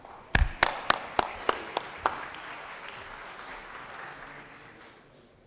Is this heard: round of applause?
yes